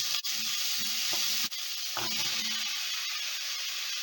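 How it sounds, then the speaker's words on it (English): Vegetables, including winter squash, sauté in a pan for a peanut stew, giving a steady bright hiss of frying broken by a few scraping stirs and brief clunks near the start. "We'll just add the vegetables a little bit at a time so that everything can get a chance to saute a bit."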